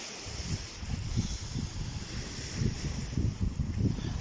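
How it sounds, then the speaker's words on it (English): Coastal wind picking up on an open shore at a rocky fishing spot, a steady gusting rush with low buffeting rumbles against the microphone and no talking. "The wind's starting to pick up a little bit"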